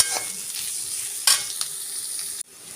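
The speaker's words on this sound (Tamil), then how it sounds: "வெங்காயமும் கருவேப்பிலையும் போடணும்" Onions and curry leaves sizzling in a hot pan for a potato and pea kurma, a steady close frying hiss broken by a few scraping stirs of a spoon, ending with a sudden drop in level.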